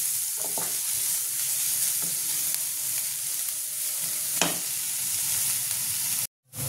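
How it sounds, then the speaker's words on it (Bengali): Onions fry in oil in a pan for potato paratha, a loud, steady close sizzle with a few spoon scrapes and taps, ending in a brief cut to silence; no talk. "তো পেঁয়াজটা আমি হালকা লাল করে ভেজে নিয়েছি, একদম হালকা ভাজতে হবে"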